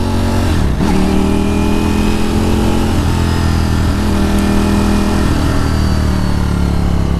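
Motorcycle engine in a garage revving with auto-blip downshifts, fitted with an SE Project exhaust: loud, continuous engine roar with several quick pitch dips and rises as the revs drop and catch, close-up.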